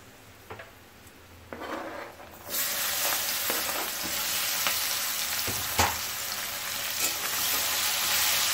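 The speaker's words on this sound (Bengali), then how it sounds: "পেঁয়াজগুলো ভালো করে ভেজে নেব।" Onions drop into hot oil with a bay leaf and dried red chili for a katla fish curry. Quiet stirring clicks give way to a sudden loud, continuous sizzle, with occasional scrapes and taps, close and without speech.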